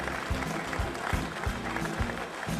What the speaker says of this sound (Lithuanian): Palydėkime plojimais nominantus ir nugalėtoją.